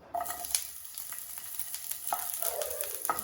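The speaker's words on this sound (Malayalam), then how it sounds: "ഒരു ചെറിയ സബോള ഇതുപോലെ കട്ട് ചെയ്തെടുക്കുക അതുകൂടി ഇട്ട് കൊടുക്കുക" Chopped onion and dried red chillies fry in coconut oil over a medium flame for a chutney, a steady close sizzle with light stirring clicks throughout.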